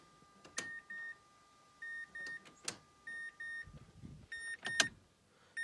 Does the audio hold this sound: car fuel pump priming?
yes